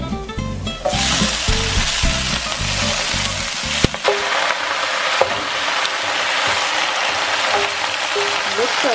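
Spinach and garlic sauté loudly in grapeseed oil with a bright, continuous sizzle, broken by occasional knocks and tossing sounds from stirring.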